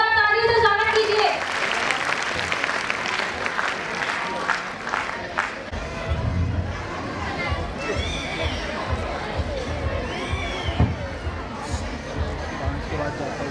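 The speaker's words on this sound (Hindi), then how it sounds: "हमारे क्लास नर्सरी के स्टूडेंट को जोरदार तालियों से स्वागत कीजिए।" Applause greets nursery students at a school annual function, a burst of clapping at the start fading into crowd hubbub, children's voices and movement noise, with people talking over it.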